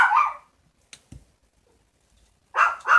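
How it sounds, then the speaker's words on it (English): A Pomeranian barks at a neighbor's dog, sounding a loud bark, then a few faint thumps and quiet gaps, and finally two more close barks in quick succession. "he does bark when he hears the neighbor dog"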